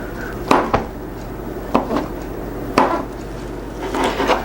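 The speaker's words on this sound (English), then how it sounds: "there's my chopped mushrooms" A knife chops big mushrooms by hand on a cutting board, giving a few sharp, separate knocks spaced about a second apart over a low, steady kitchen background.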